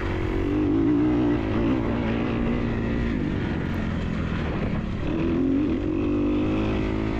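A rebuilt Kawasaki enduro motorcycle screams at full throttle in fourth gear on a sprint enduro course, a loud, steady, close engine drone with small pitch swells and no talking.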